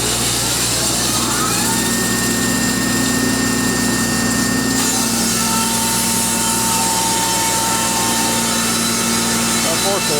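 A sawmill blade cuts a 6-inch board from a bowed log set up for 16-foot boards, a steady continuous mechanical whine and rumble running the full length with a tonal shift partway through.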